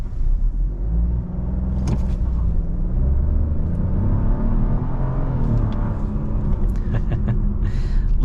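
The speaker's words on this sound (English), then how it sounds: "Let's go ahead and do an acceleration right here." Interior drive of a 2023 Buick Encore GX with a 9-speed automatic under hard acceleration: loud, continuous engine drone and road rumble that climbs steadily in pitch through the gears, with faint cabin clicks over the top.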